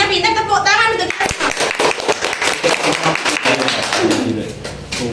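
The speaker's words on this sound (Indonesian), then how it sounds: "Tepuk tangan untuk kita" Classroom clapping during a lesson wrap-up, a burst of hand claps from the class heard over a teacher's talking, with sharp irregular claps continuing throughout.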